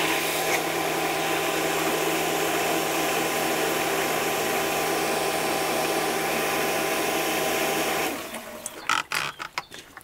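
A Hayward 1.5 HP pool pump and filter run during backwashing, giving a steady, loud rush of water and motor hum for about eight seconds, then cutting out to scattered clicks and knocks.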